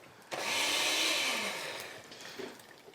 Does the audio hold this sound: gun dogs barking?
no